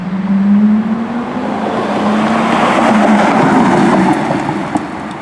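A Porsche Carrera GT drives by with a loud, sustained engine roar that holds a steady drone and swells slightly midway, heard alone without talk.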